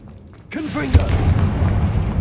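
A Confringo blast spell in the Hogwarts Legacy video game, where a brief spoken voice gives way to a sharp, booming impact followed by a low, rumbling explosive roar.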